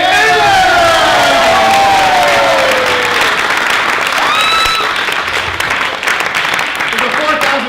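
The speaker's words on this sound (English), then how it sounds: "let's give a big round of applause for our audience volunteer, Taylor!" An audience applauds and cheers loudly for a volunteer, with dense continuous clapping and shouts. Whoops and a few voices call out over the applause.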